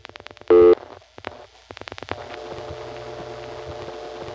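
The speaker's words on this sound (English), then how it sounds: "you hear that second dial tone in the background?" A panel telephone switch from the 1970s gives a second dial tone: after a short beep and a series of clicks, a steady low hum of tone comes up faintly in the background and holds to the end.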